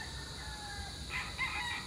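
A Popeye Gray gamefowl rooster crows at a game farm, a short, moderately faint call rising over a low background hum partway through.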